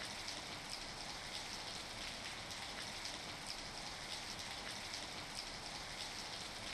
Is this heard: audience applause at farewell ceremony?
no